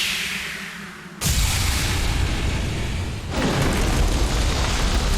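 A cannon fires in an old-school video game cutscene, a sudden loud, full blast that stays roaring and rumbling, then swells again with a second heavy burst, alone without talk.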